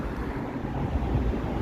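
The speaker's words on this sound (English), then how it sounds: "and it's windy here too." Wind buffets the microphone on a downtown Toronto street, a steady low rumbling roar throughout the short stretch with no talking.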